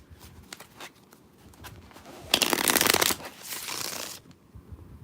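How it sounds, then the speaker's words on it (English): A deck of playing cards is riffled and shuffled at close range, with a few light taps and handling sounds first and then two dense, rapid bursts of card flutter, no talking. "Let me shuffle these a little bit more."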